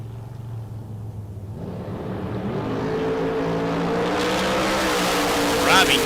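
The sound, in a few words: 1967 Nova drag race car run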